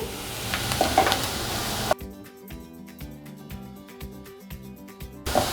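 Bay leaf and onions for tomato soup sizzle in a pan with a dense, hissing fry, then give way to a rhythmic series of metallic clicks and taps before the sizzle returns at the end.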